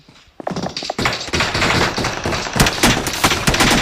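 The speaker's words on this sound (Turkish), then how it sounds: "Biri de bana sıkıyor ama nereden göremiyorum." Rapid gunfire from the video game PUBG Mobile rings out as a dense run of sharp, loud shots, with bursts packed closely together and continuing steadily throughout.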